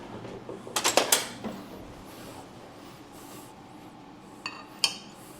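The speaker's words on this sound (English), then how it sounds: "Give me a butter knife here." A butter knife is picked up and handled while buttermilk biscuits are made, giving a quick cluster of light metallic clinks and scrapes, then a couple of isolated taps a few seconds later.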